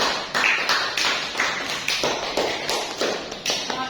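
A classroom of fourth-grade pupils claps together for a classmate, a steady run of close, bright hand claps with a quick, even rhythm that lasts throughout, no voices over it.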